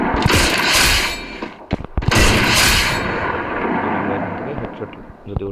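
Sniper gunfire in a shooting video game: loud, sharp shots and heavy booming blasts, with a long rumbling tail trailing off into quieter sounds.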